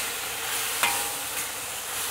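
Scallions stirred into eggplant with garlic sauce in a hot wok: a dense, even sizzle with a single quick scrape of the spatula, close and steady throughout.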